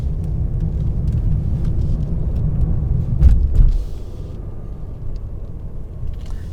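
A 2021 Mercedes E350 sedan with a turbocharged 2-liter four-cylinder: a low, steady, smooth engine rumble heard from inside, with a brief swell in loudness partway through, no talk.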